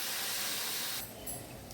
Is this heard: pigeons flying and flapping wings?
no